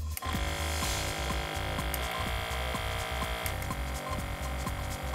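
A small Iwata Neo Air mini airbrush compressor runs on its high-intensity airflow setting with a close, steady motor hum and a regular throbbing pulse.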